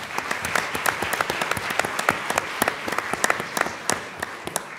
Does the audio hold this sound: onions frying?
no